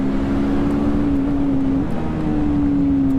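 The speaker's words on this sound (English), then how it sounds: "I hope you can hear that revving sound, very soothing to hear" A TVS Apache RTR 310 motorcycle engine drones at a steady, continuous rev, with a slight pitch shift partway through, loud and close under wind noise, with no talking.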